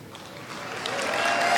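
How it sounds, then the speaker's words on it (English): Studio audience applause at a live motivational talk, a steady wash of clapping that starts moderate and swells louder toward the end, heard alone without speech. "That's not good when they applaud your age."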